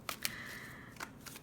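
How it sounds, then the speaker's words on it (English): A tarot card deck is shuffled in a few quick, crisp riffles, soft and close in a quiet room. "So I did a good bit of shuffling off camera, but I'm going to do just a little bit more on camera"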